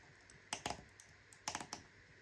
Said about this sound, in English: Ratcheting elbow joints.